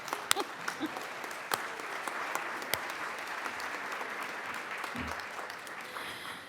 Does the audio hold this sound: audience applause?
yes